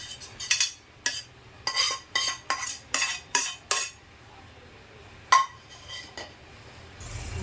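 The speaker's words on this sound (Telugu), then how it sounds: "మనం వేసిన దినుసులన్నీ కూడా బాగా కలిసేలాగా కలిపేసుకోవాలండి" A spoon clinks against a metal bowl while kajjikayalu sweet filling ingredients are stirred and mixed, giving a quick run of about eight sharp, close scraping clinks, a pause, then a few more scattered taps, with no voices.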